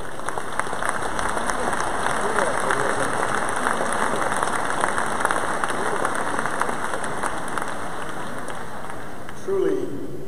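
A large crowd at the 2019 Rotary International Convention opening ceremony in Hamburg applauds a couple's 40th wedding anniversary, with dense, sustained clapping filling the hall from start to finish.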